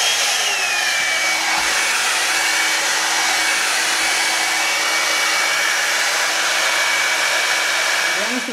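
A Babyliss Big Hair rotating hot air brush runs on its low heat setting, giving a steady, loud airflow whoosh with a constant motor whine that holds unbroken from start to finish.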